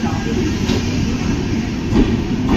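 A passenger train with a pantry car runs steadily, giving a loud, continuous rumble of wheels and carriage noise from inside the coach, with no speech.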